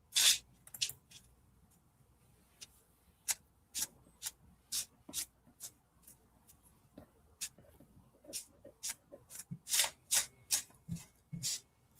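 Tarot cards being shuffled up close, a run of quick papery riffles and slides in uneven bursts, alone in a quiet room.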